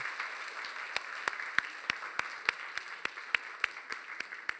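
A small church congregation claps in a steady, moderately paced rhythm, sharp individual claps standing out over a soft hiss, fairly quiet and distant.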